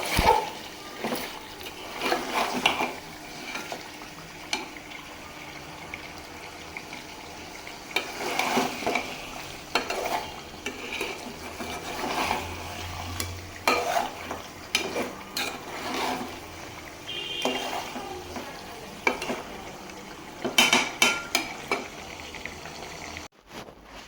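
Meat is braised and stirred in a pan, giving a low, steady sizzle with scattered clinks and scrapes of a utensil at close range over a long stretch.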